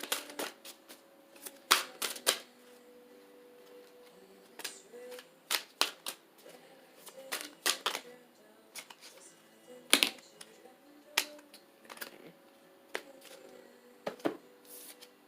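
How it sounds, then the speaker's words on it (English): Psychic Tarot Oracle cards are shuffled for a reading, making close, crisp, irregular snaps and short riffles separated by quiet pauses, with no speech. "I will pull some Psychic Tarot Oracle cards."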